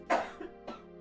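A single close cough with a short rough burst, followed by a smaller throaty catch, heard alone in a quiet room.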